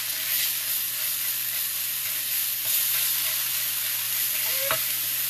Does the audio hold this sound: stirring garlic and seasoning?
yes